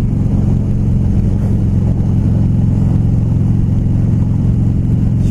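Engine of a 2016 Harley-Davidson Low Rider motorcycle idling and revving, a loud, steady low rumble with throbbing pulses that holds close and constant throughout.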